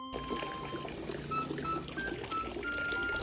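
Water pouring steadily into a swimming pool being refilled after cleaning, a continuous rushing trickle with faint tonal chirps over it, fairly constant and moderately loud throughout.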